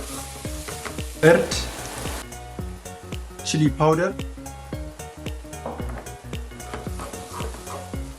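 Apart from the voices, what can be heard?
onion, garlic-ginger paste and spices frying in a pan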